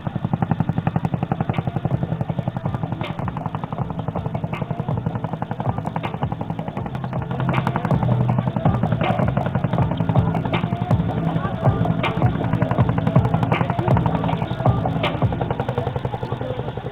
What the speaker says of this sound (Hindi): Now in front of us, you can see the Chinook living up to their unit name of featherweight.